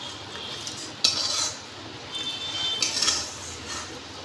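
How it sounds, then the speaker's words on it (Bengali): Ghee-fried rice scraped from a wok into milk for payesh, two or three metal-on-metal scrapes and clatters of a spoon against the pan over a quiet background, without talk. "আমি এরপর কড়া থেকে চালটা এই দুধের মধ্যে দিয়ে দেব।"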